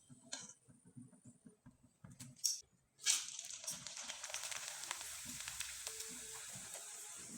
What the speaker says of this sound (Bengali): এই চিপসগুলো হালকা আঁচে ভেজে নিতে হবে।